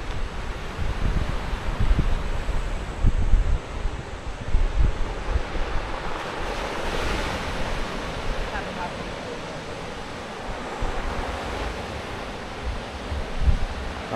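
Surf rolls in on a Tuscan beach along a coastal hiking path, a steady broad wash of breaking waves with wind buffeting the microphone and faint talk at times.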